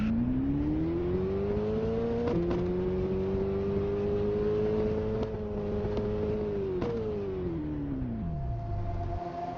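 A race car engine holds a steady high drone during a fun race, shifting pitch at a few gear changes and fading lower toward the end, moderately distant with no voices.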